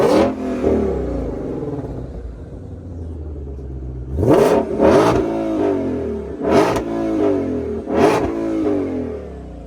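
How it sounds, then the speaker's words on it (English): A 2020 Shelby GT500 idles with a deep, lumpy burble, then its engine is blipped four times in quick, evenly spaced revs, each one rising sharply and dropping back to idle, close and loud. "we're gonna give you guys a rev here"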